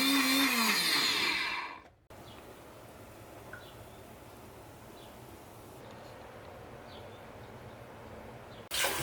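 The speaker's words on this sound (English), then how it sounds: "I know this probably isn't great for my plastic blender" A plastic blender whirs loudly as it blends a just-boiled hot mixture, running for about two seconds and then cutting off abruptly, leaving a quiet room.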